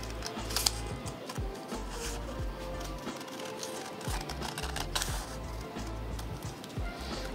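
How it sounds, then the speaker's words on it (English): Scissors snipping through a paper butterfly template, a quiet series of irregular crisp cuts and paper rustles, close by with no talking. "we'll take the scissors and we're going to cut along this wide green line"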